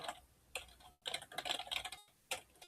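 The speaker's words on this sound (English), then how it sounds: "Yeah, I have to get better at typing." Quick bursts of clicking keystrokes on a computer keyboard, close and fairly quiet, separated by short pauses.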